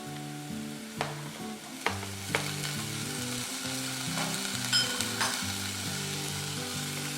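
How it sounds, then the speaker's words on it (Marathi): Onion and tomato sautéing in a pan for a cashew nut curry, a loud continuous sizzle broken by sharp scraping and stirring strokes, close up, with a low background hum underneath. "आता हा कांदा आपला छान गुलाबी परतला आहे आपण आता यात टोमॅटो घालू"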